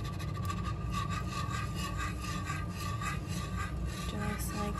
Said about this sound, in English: why you want to use a whisk is because see how it's kind of clumping up a little bit there?